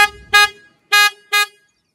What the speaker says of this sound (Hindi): अच्छा मतलब इसमें करेटा का हॉर्न लगा हुआ है